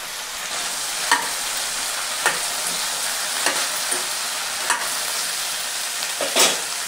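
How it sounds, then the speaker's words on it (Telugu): Tomatoes and curry leaves fry in a pan for a lassi-style okra chutney, giving a steady close sizzle with occasional soft stirring scrapes scattered throughout. "ఇప్పుడు టమోటాలు వేసుకుందాం."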